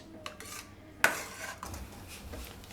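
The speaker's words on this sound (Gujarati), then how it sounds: "આને ખાલી આપણે આ રીતે મિક્સ જ કરવાનું છે." A spoon stirs mango kheer in a metal pot: soft scraping and rubbing, with one sharp clink of spoon on pot near the start and lighter knocks after it. No talking.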